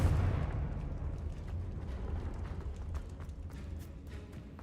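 In Hogwarts Legacy, a Confringo fire spell lands with a heavy, booming blast whose deep rumble slowly decays, while sharp crackling pops scatter through the tail.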